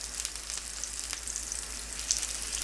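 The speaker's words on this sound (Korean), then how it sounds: "식용유 두른 팬을 중약불로 예열하고 파프리카를 올립니다. 파래 계란 반죽을 파프리카 안에 넣어주세요." Paprika rings filled with seaweed egg batter cook in an oiled pan over medium-low heat, a soft, even sizzle with faint pops, quiet and continuous.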